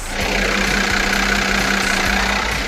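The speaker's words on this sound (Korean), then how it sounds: "영상으로 엔진 소음 한번 담아보도록 하겠습니다" A well-maintained gasoline car engine idles with the hood open, heard close up as a steady, smooth hum with a faint even ticking rhythm and no voices.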